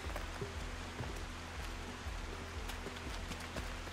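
Steady rain falls through dark woods at night in the game Life Is Strange 2, a dense even patter of drops hitting leaves and ground, with a low rumble beneath and scattered sharper taps throughout.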